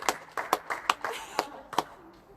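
Neighbours clapping from nearby homes to honour heroes during the corona isolation, an uneven patter of applause with sharp hand claps, fairly close, with faint voices underneath.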